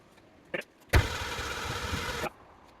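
A project Ford Mustang engine is cranked for the first time after restoration: a brief whir, then a loud, steady churning run for over a second before it cuts off abruptly.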